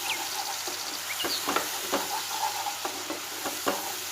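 Chilli chicken with tomato sauce sizzles in a pan while a spoon stirs it, producing a continuous hiss with repeated scraping taps against the pan, close and clear.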